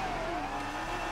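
Street drag-racing cars on Manhattan streets rev and accelerate loudly and close, a steady engine roar with rising pitch filling the whole moment.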